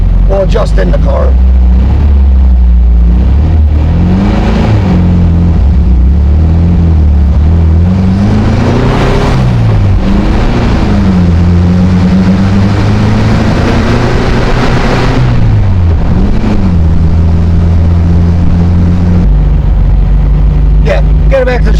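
A 1968 VW Karmann Ghia engine runs steadily while the car drives on the road, a loud continuous low drone whose pitch rises and falls as it revs and shifts, close and constant throughout.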